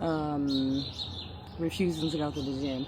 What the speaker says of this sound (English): Listen to the birds chirping,